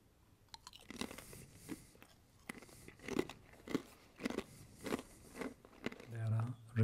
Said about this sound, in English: They are really crunchy and very flavorful